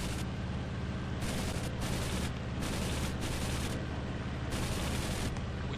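Aircraft guns in the IL-2 1946 flight combat game fire at parked aircraft on the ground in several sustained bursts over a steady engine drone, loud and close.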